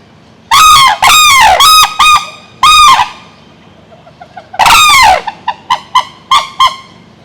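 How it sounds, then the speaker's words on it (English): An emu at a bird park lets out loud, close, honking calls, several long blasts in two bursts, followed by a series of shorter calls that fade out. "So what you see there is an emu, and it is a big bird from Australia."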